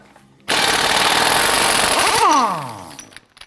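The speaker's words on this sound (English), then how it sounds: "Using a 36mm socket, go ahead and remove your axle nut." An impact wrench with a 36mm socket rattles hard and loud for about two seconds, taking the front axle nut off a 2004-2008 Acura TL, then winds down in a falling whir as the nut spins free.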